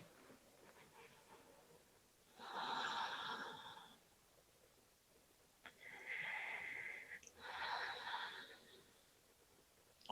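Deep, slow breaths during a sweaty yin-style stretching session: two long, airy, wheezy exhalations close to the mic, separated by quieter pauses, with no talking.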